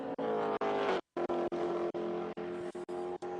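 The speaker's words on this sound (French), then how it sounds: "cette BMW avec Bill Oberlein qu'on a vu tout à l'heure, eh bien elle entame son premier tour de course" A BMW race car at the Sebring 12 Hours roars past, its engine note rising and falling through repeated gear shifts, with short gaps between bursts and a brief cut of silence.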